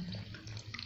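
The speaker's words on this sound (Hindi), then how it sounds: "अब हम इसमें पानी डालते हैं।" Water runs steadily from a tap or is poured into a mixture being made for a homemade mobile phone stand, a continuous close splashing flow with no talk.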